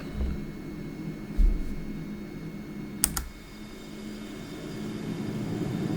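Steady low drone of a JF-17 jet engine throttled up in the DCS flight simulator, holding at an even level for the whole stretch while a few sharp keyboard clicks tap over it.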